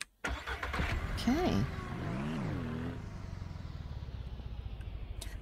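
A car engine in the Ranch Simulator video game runs steadily, rising and falling in pitch as the vehicle is driven, with a voice talking over it.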